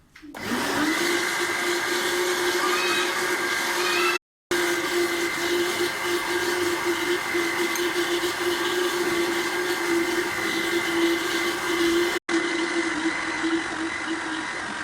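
A kitchen blender whirs steadily as it mixes eggs, milk and oil for a flan cake. The motor drones loud and close for nearly the whole stretch, with two very brief cutouts.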